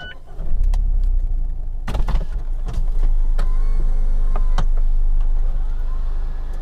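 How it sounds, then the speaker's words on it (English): Power-operated metal folding hardtop of a Mazda MX-5 RF retracting, a steady electric motor whir with mechanical clunks and latch clicks near the start and middle, close up over a low idling engine hum. "there's actually a metal folding roof on the car instead of it being a standard soft top"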